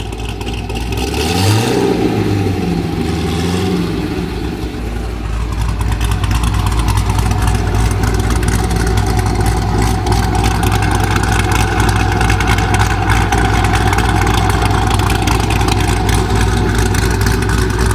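A deep, rumbling Corvette engine with aftermarket heads, cam and full exhaust idles loudly and steadily, its throaty exhaust burbling with a slight rise in revs early on.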